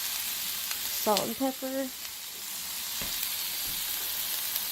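Mirepoix of carrots, onions and a little celery sautéing in extra virgin olive oil in a pan, a steady broadband sizzle throughout, with a brief spoken phrase near the start.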